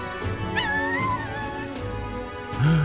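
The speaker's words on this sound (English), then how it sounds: "Doggy." A dog whimpers in the Metaphor: ReFantazio video game, thin rising and falling whines drawn out in the middle and then a short, louder yelp-like whine at the end, close and clear over a faint musical background.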